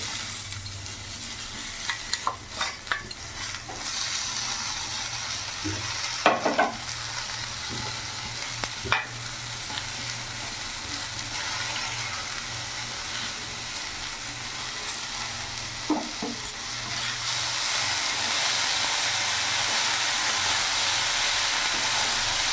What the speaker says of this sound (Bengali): এখন কেটে রাখা মেথি শাকটা পুরোটা দিয়ে দেবো